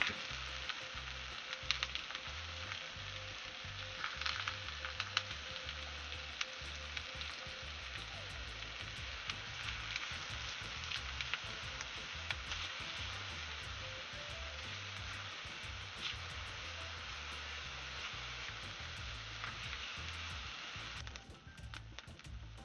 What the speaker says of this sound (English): Add our onions and peppers. Just gonna saute those down.